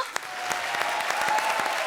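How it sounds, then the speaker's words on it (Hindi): A studio audience at a televised comedy show breaks into loud, dense applause that holds steady for the whole moment, with rapid overlapping claps. "जोरदार तालियां"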